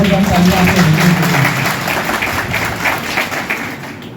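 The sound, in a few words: loud applause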